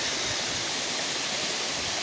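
Waterfall beside an old mill in the forest countryside of Zhytomyr region, Ukraine, a steady broadband rush of falling water, moderately loud and continuous, with no voices.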